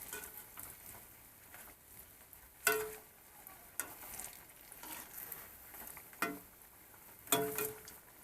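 Banana flower chops frying in a pan over very low gas while being turned over, a faint quiet sizzle punctuated by occasional sharp taps and clicks.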